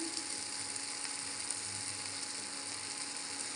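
Turmeric frying with chunky tomatoes in a hot pan makes a steady, close sizzle with no pause, and a faint scraping hum runs underneath it.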